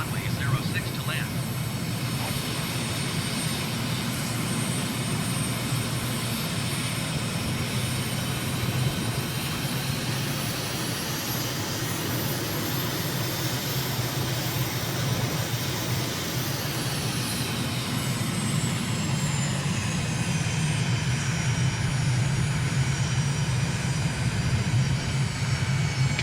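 Steady, loud jet-engine roar of an aircraft on final approach to runway 06 in a flight simulator game, a continuous drone with a whining tone that rises and falls slightly throughout.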